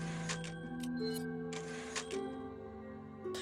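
Typewriter save sound in Resident Evil 4, a few crisp clacking keystrokes and a mechanical ding over a steady low musical drone.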